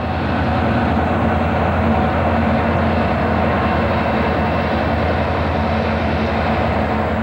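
A freight train led by D&H locomotive 7412, with Susquehanna 3638 and CSX 6334 trailing, rolls past as a loud, steady rumble and roar that holds without a break, with no talk.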